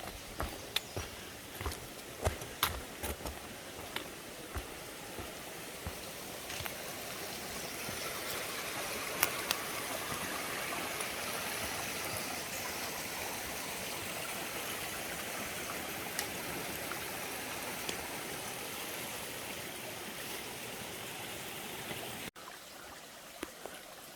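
Steady broadband rush of a river at a hiking-trail crossing fills the whole clip, with scattered crunching footsteps early on, then it cuts off abruptly near the end.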